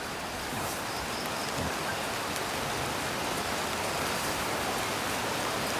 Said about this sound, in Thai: บรรยากาศฝนตกนะครับตกทุกวัน